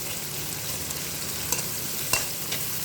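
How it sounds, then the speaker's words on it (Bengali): Dried fish frying in soybean oil gives a dense, bright hiss of sizzling, with two or three faint stirring clicks near the end and no speech. "একটু নেড়ে চেড়ে"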